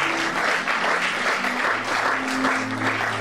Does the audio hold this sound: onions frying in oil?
no